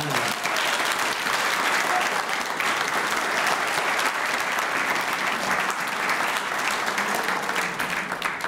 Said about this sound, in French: Est-ce que vous leur donnez une belle main d'applaudissement?